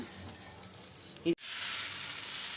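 Quiet sizzling of dried red chillies and tempering spices dropped into hot oil, a brief clatter followed by a steady, bright hiss that continues to the end.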